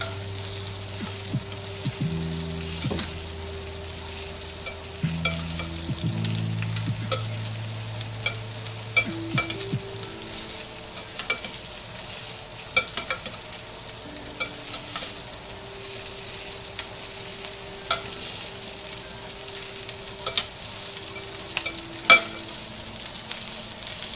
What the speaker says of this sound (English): I'm going to give the peas a stir.